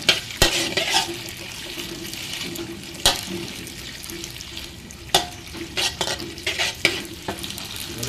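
Pad see ew noodles stir-fried in a pan at a roadside eatery, loud close sizzling broken by repeated sharp clanks of the spatula against the pan.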